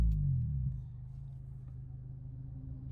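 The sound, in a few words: Acura RSX DC5 revving with Invidia N1 catback exhaust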